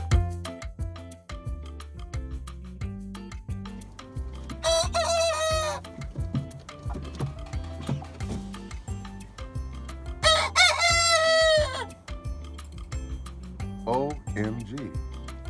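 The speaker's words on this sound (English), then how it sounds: "I'm about to deal with the chickens." Chickens cluck and mutter continuously nearby, with two loud rooster crows rising above the flock; a person talks intermittently over the birds.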